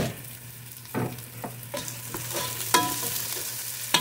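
Onions sautéing in a covered pan with a soft, continuous sizzle, broken by several sharp clinks and scrapes of a utensil or lid against the pan, close and fairly quiet.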